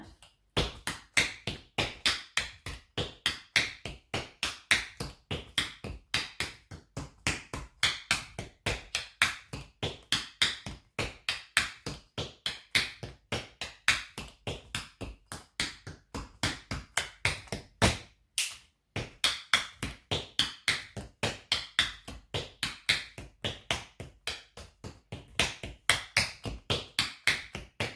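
Tap shoes beating out a pickup exercise, a long run of crisp, rapid, evenly spaced taps with one brief pause partway through, close and clear, with no voices.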